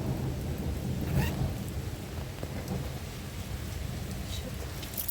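Heavy rain falls steadily in a thunderstorm, a continuous dense hiss with a low rumble of thunder building and fading early on, heard from close by.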